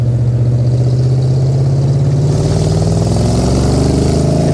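An AC Cobra 427 replica by Dax revs its engine loudly and steadily up close, its deep rumble rising in pitch as it accelerates.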